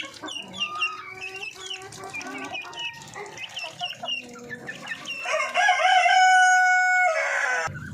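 Pet chickens cluck steadily at close range, hungry and wanting feed, their calls building to louder, sustained squawks near the end.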